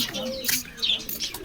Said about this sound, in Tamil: ஃபுல்லா புறாவா? லவ் பேர்ட்ஸ் இருக்கா?